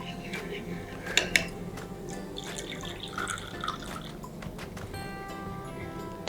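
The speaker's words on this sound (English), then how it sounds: "so I'm just going to add some water" Water is poured into a thick sauce in a claypot for a festive nan ru dish, giving light trickling and dripping sounds with a couple of sharper splashes over a low kitchen background.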